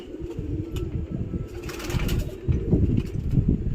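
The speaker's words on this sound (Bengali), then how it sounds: "এই যে পায়রাগুলো এই বসতে যাচ্ছে, এই বসছে, এই বসছে" Pigeons flying in and landing in the afternoon, wing flaps and scuffles mixed with low cooing, close and continuous with denser bursts toward the end.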